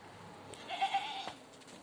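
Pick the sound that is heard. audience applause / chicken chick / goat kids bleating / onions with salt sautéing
goat kids bleating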